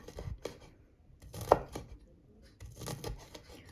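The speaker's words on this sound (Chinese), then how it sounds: "我们来切一下这个朝天椒，把它切成辣椒圈就可以了" Bird's eye chili peppers are cut into rings on a board, heard as a series of about eight sharp, close knife thuds in an uneven rhythm with short pauses between them.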